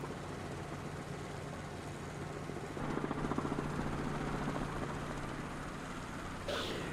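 A helicopter in a VR flight game drones with a steady low engine hum and rotor noise, holding constant and quiet, with a brief louder shift partway through and no talking.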